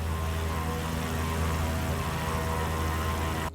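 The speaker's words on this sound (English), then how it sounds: "Now from the outside, this is what this engine sounds like." The engine of a Gee Bee R3 Special racing plane heard from outside in Microsoft Flight Simulator 2020, a loud, continuous droning roar with a steady low rumble and no variation until it cuts off.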